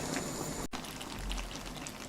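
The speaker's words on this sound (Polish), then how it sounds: "dodajemy nasz ser topiony z wodą i to wszystko mieszamy" Melted cheese thinned with water is poured into a pot of fusilli with celery, a steady wet pouring and trickling wash that runs close and continuous for about two seconds.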